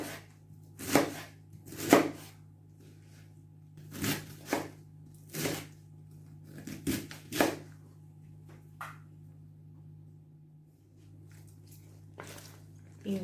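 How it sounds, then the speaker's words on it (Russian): A knife cuts cabbage into small cubes on a board, with about a dozen sharp, uneven chops and taps spaced apart over a low steady hum, close and fairly quiet. "И вот так вот нарезается на кубики."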